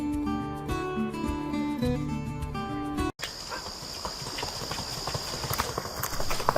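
Horse trotting with short, quick steps: a steady clip-clop of hooves comes in after a brief break at the start, amid rustling background noise, with no talk.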